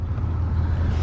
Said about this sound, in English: please excuse the road noise. We're right next to an interstate